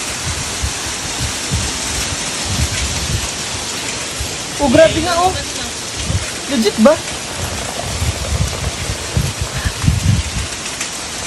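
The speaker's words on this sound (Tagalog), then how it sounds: "Ang lakas ng ulan, no?" Heavy rain pours in a steady, dense roar, with people talking and exclaiming over it.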